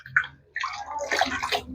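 Tap water running and splashing over breast pump parts being rinsed in a sink, an uneven, close stream with sloshing bursts and no talking.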